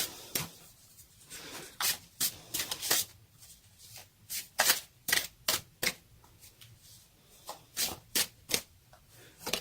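Oracle cards being shuffled and drawn from a deck, giving a run of sharp riffling bursts and flicks at an uneven rhythm, close and fairly quiet with no talking.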